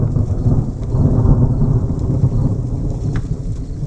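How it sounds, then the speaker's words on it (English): A small thunderstorm in South Dakota, with steady rain hissing throughout and low thunder rumbling continuously close by, loud and unbroken. "we're in the midst of a small thunderstorm"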